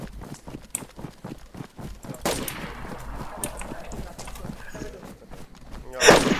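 A sharp, loud gunshot in the DayZ video game rings out with a long echoing tail, set among scattered footstep-like thuds, followed by another strong burst near the end, with a voice talking around it.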